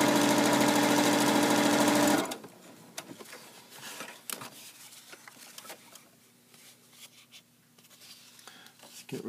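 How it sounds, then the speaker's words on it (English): A JUKI HZL-70 portable sewing machine with a regular needle sews denim in a loud, steady mechanical run for about two seconds, then stops. Faint handling clicks and rustles follow. "I'm going to sew this denim and show you how well it works with this denim"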